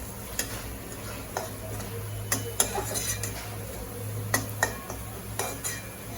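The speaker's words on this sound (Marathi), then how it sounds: "आता हा मसाला खूप छान व्यवस्थित असं मिक्स करून घेऊया" Masala stirred into bamboo shoot vegetable in a pan, with a steady run of close spoon taps and scrapes against the metal over a low hum and faint sizzle, and no one speaking.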